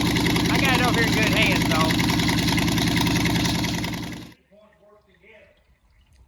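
A newly built Ford 289 V8 runs with a steady, loud, rough idle and slight misfiring for about four seconds, then cuts off abruptly; someone speaks briefly over the engine noise.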